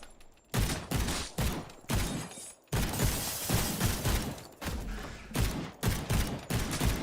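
Rapid bursts of gunfire from the game Suit for Hire crack in short volleys with brief silent gaps between them, loud and sharp, with mechanical clatter mixed in.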